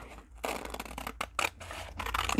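Scissors cut through a paper envelope in several quick, close snips with brief pauses between them, crisp and fairly loud against a faint hum.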